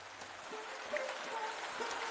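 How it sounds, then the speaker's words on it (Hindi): Dense, hissing downpour of heavy rain, steady and close throughout, with faint tonal sounds drifting underneath. "हे भगवान, इतनी तेज बारिश।"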